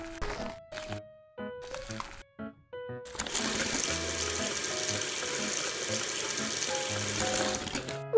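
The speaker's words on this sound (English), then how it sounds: "Put them in faucet." Tap water runs steadily from a faucet as raw chicken hearts are rinsed in a miniature kitchen, a continuous splashing rush that starts after a few seconds of small clinks and stays close and even to the end.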